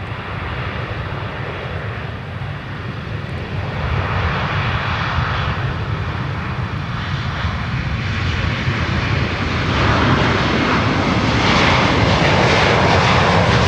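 A Delta heavy jet airliner bound for Amsterdam takes off from runway 12 right at Minneapolis–St. Paul, a loud continuous engine roar that holds steady and swells toward the end, with no talking.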